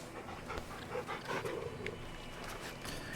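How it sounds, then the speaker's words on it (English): A large dog in Final Fantasy XVI pants and whimpers softly while being petted, a steady breathy rhythm up close with faint game ambience and no talk. "We gotta pet our puppy."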